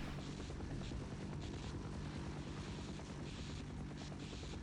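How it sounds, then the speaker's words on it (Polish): A helicopter flies overhead in Half-Life, its dense rotor roar steady and fairly loud with a fast chopping pulse and no voices over it. "Jakieś helikoptery latają?"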